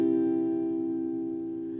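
An acoustic guitar sounds a single strummed D6-like chord, its open voicing ringing out alone and slowly fading over a couple of seconds.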